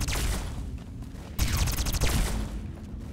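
Automated turrets in Fallout: New California fire in rapid, dense bursts, loud and close, with a sharp surge of shots partway through and continuous rattling gunfire throughout.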